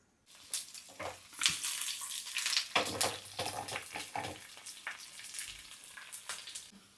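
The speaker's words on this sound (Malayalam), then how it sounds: "ഉള്ളി, വേപ്പില, വറ്റൽമുളക് കേട്ടോ." Onion, curry leaves and dried chilli fry in coconut oil with mustard seeds and fenugreek, giving a close, quiet crackling sizzle with bursts of stirring and spattering throughout.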